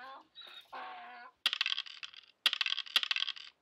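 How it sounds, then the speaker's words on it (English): Dice clatter and tumble across a hard surface in two sharp rattling bursts, each with quick bouncing clicks, after a few brief squeaky animal-like cries at the start. "Dice."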